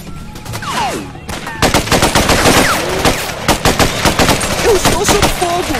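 Rapid bursts of automatic gunfire in the jungle of Raven Squad: Operation Hidden Dagger, loud and close, with a dense rattling rhythm that runs almost without pause after a brief lull, over faint voices.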